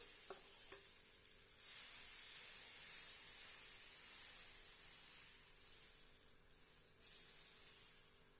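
Thick banana dosa batter hits a hot griddle and sizzles, a steady bright hiss that swells after a brief clink at the start and holds close and loud throughout.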